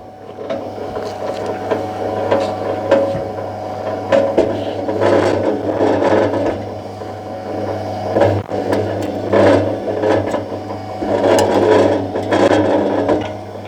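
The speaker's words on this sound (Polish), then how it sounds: "W etapie drugim żyły zostały poddane zgniataniu, co umożliwiło takie właśnie, taką właśnie obróbkę kabli." An EN10 cable stripping machine for wire recycling crushes cable cores with a continuous mechanical whir and steady low hum, overlaid by irregular clattering and scraping bursts, close and loud throughout, with no talk.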